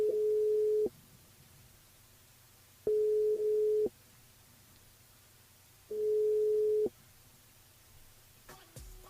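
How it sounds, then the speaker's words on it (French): A telephone ringback tone sounds while a radio host calls a listener on her mobile. Three steady one-second tones come at regular intervals with quiet gaps between them, and a faint click comes at the end. "on rappelle Lucia."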